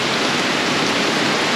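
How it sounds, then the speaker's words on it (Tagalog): Heavy rain falls on a hidden campsite during car camping beside a Montero Sport, making a dense, steady, close hiss with no pauses and no talk. "malakas na talaga yung ulan."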